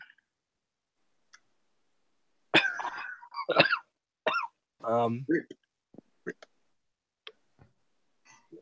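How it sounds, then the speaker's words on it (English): Someone gives a few sharp, close coughs in a quiet room, with short voiced bursts and throat sounds between them and faint clicks trailing off afterward. "You coughed though"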